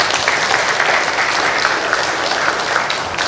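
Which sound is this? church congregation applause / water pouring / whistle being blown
church congregation applause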